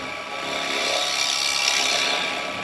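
A chisel cuts into maple turning on a lathe, hollowing a tea light holder. It makes one loud, steady rasping scrape that swells and fades over a few seconds.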